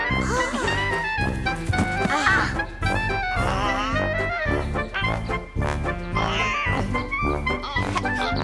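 A cartoon pig oinking and grunting in animated voices, busy and fairly loud, mixed with music and other vocal sounds throughout.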